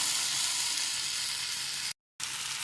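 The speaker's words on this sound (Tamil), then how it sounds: "இப்போ நான் வெண்டைக்காவையும் ஆட் பண்ணி நல்லா வதக்கிக்கிறேன்" Okra sizzling and sautéing in a pan with onion and tomato for an okra tamarind gravy, a steady loud frying hiss that cuts out briefly near the end before resuming.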